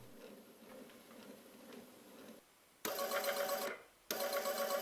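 An old printer's geared DC motor runs on 5V, giving a steady whirring hum with a lower drone before it, then a louder high whine that stops briefly and starts again.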